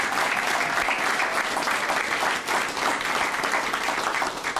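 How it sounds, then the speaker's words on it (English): A crowd at a fire department awards ceremony breaks into steady, dense applause for a deployed service member, loud and sustained throughout with no pauses. "give her a round of applause"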